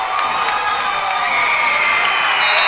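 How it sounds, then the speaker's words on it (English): A middle-school basketball crowd at a Blue Ridge Conference championship cheers and applauds, a loud, sustained roar of shouts and clapping with no break. "Crowd comes to their feet."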